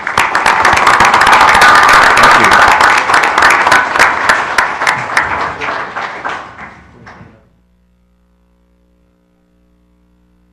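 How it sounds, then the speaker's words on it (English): Loud, dense applause from an audience for the parents, steady for about six seconds before fading out to near silence, with a faint low hum remaining. "let's give them a round of applause again"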